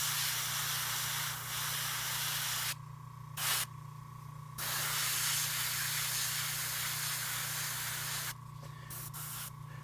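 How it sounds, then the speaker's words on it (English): An airbrush spraying paint onto a Blood Angels Assault Marine miniature, a close, steady hiss that cuts off abruptly twice and resumes, with a constant low hum from the compressor underneath. "So I pulled back to kind of get that spray to fan out"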